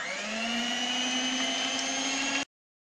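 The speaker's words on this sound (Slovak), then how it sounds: "Z 5 bielkov si vyšľaháme sneh." An electric mixer whips five egg whites into foam, giving a loud, steady, unbroken motor whine for over two seconds before cutting off abruptly, with no talk.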